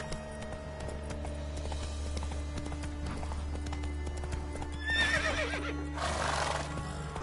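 A horse in The Witcher video game gallops with a steady clip-clop of hooves and lets out a loud, drawn-out neigh partway through, with the galloping continuing under it.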